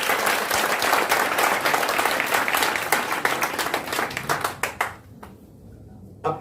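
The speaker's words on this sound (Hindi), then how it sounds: "एक बार जोरदार ताली अपने लिए जाकर दिखा।" A live seminar audience breaks into loud, sustained applause, dense clapping filling the hall for about five seconds before thinning out into a few scattered claps.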